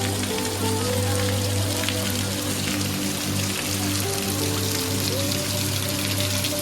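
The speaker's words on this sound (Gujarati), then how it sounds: "પાણી ભરાઈ ગયું અહીંયા જો એટલો વરસાદ આવ્યો" Heavy rain pours down steadily, a dense hiss of drops hitting surfaces throughout, with a low continuous hum running underneath.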